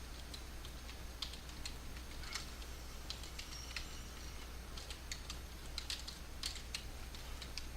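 Quiet computer keyboard typing enters a Minecraft chat command, with scattered soft key taps in short bursts over a steady low hum.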